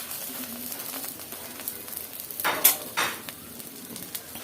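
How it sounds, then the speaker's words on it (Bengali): An egg sizzling steadily in a hot pan with a little oil, under a continuous fry hiss, with a couple of sharper scraping bursts as it is turned or pressed. "অল্প আছে রেখে ডিমটা ভেজে নিচ্ছি"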